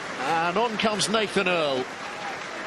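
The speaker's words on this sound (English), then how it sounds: "So warm applause for Chris Ashton, who makes his way off the field." Stadium crowd at a Leicester Tigers versus Saracens Premiership rugby match gives warm applause as Chris Ashton leaves the field, a steady distant wash of clapping beneath a commentator's voice.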